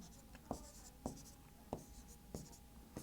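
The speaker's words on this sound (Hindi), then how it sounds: "मैं लिखता हूं," A teacher writes by hand, likely on a board, producing about five evenly spaced tapping strokes with faint scratching between them, quiet and close, with no talk.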